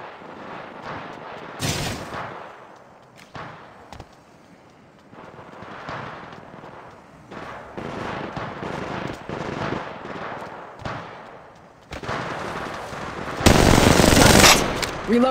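Automatic weapons fire in Apex Legends Mobile, with rapid bursts of gunshots and heavier blasts that come and go over a long stretch and grow loudest toward the end.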